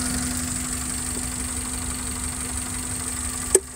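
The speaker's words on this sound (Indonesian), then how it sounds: "Yang luar biasa tuh suara mesinnya, nyaris tak terdengar karena hanya suara injektor saja" A tuned Suzuki APV engine idles very quietly with a faint steady injector ticking and a constant low hum, ending in one brief sharp click.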